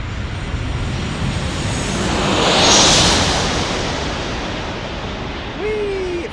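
A Boeing 777 airliner passes at busy San Diego airport, its broad engine roar swelling to a loud peak midway and then easing back, with no talking.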